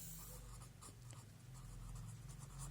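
Marker or chalk writing on a board during a maths lecture on variations and proportion, faint steady scratching strokes in a quiet room.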